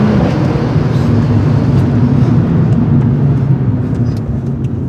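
A car engine idling and droning loudly up close, a steady low rumble with a constant hum that eases slightly near the end, driven by an unlicensed young driver, no voices.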